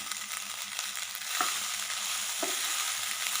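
Leftover rice being tossed and mixed in a pan, a steady close scraping and stirring hiss with a couple of soft knocks, no voices.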